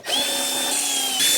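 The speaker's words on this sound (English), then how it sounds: "just grab yourself a drill or a screwdriver or whatever you want to use." A power drill whirs steadily and loudly, driving out the small screws that hold a circuit board inside an MP251i printer.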